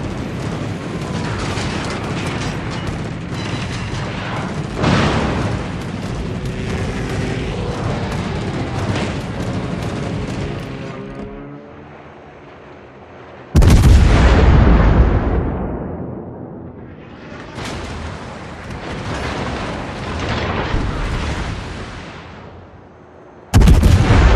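Naval battle in World of Warships aboard the Clausewitz: a long churning roar of anti-aircraft and artillery fire that fades into a lull, then a sudden massive close blast with a long decaying rumble, and another sharp boom at the end.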